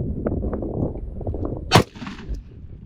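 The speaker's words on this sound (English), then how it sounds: "going to take a shot with the 308" A .308 rifle fires a single steel-cased FMJ round outdoors, one sharp loud crack with a short tail, preceded by low background rumble and handling noise.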